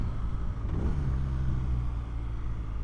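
BMW R nineT 100 Years Edition motorcycle, 2023, riding with its engine revving, a low steady rumble that climbs briefly in pitch, heard close over wind noise with no talk.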